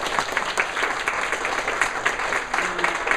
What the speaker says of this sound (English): Let's do a quick round of applause